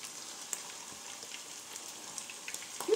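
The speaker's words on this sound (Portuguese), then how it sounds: "Vou começar aqui, então, gente, a fritar as almôndegas" Meatballs frying in a pan give a soft, steady sizzle with scattered small pops and crackles, quiet and close, with no talking.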